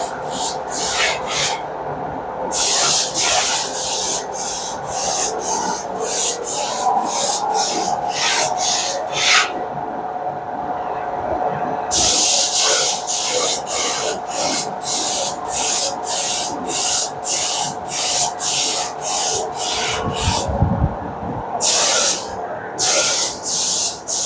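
Repeated bursts of a sprayer hiss onto the pillars of a farm shed, short hissing blasts in irregular rhythm with brief pauses between them, close and loud over a low background hum.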